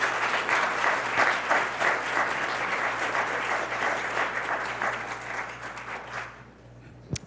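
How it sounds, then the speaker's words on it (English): An audience at a school award ceremony gives a sustained round of applause, dense and steady clapping from a large room that slowly fades out over about seven seconds. "Let's give her another round of applause,"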